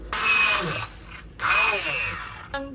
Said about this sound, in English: I'm going to be putting it all in a bowl and using a little immersion blender to blend it all up